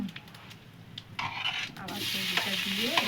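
Vegetables sizzle in a pan with cumin and dried red chilli, quiet scraping at first, then a louder, continuous hiss of frying that builds and holds to the end.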